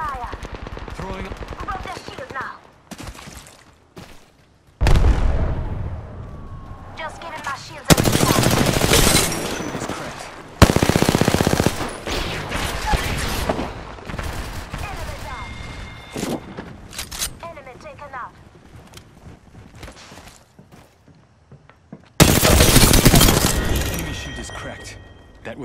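Apex Legends gunfire comes in loud bursts of rapid automatic shots and sharp single cracks, broken up by quieter stretches. A voice talks in between.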